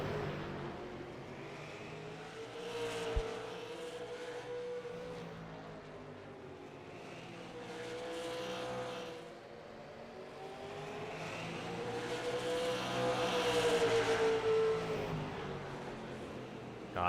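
Race cars roaring around Nashville Fairgrounds Speedway at an LTP Super Series All Star Twin 75 race, engines droning steadily and swelling as cars pass, heard from a distance with no talk over them.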